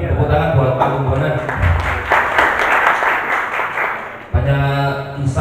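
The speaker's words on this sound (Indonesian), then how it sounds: "Tepuk tangan buat Pak Agung Bonan." A book-discussion audience at the Brawijaya library in Malang claps for Pak Agung Bonan, a dense burst of applause swelling in the middle, with someone talking before and after it.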